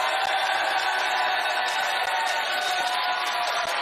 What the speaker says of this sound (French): Ils sont avec nous et ils peuvent s'applaudir.